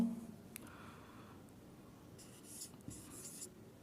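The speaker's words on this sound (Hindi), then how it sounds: "फिर मैं एक सेंटेंस लिखता हूं" Pen scratching out a sentence by hand on paper, a faint close rustle of strokes with soft light taps, quiet and continuous.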